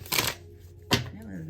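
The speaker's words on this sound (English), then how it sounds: "That was not a good shuffle." A deck of tarot cards is shuffled close by in two quick riffling bursts separated by a short pause.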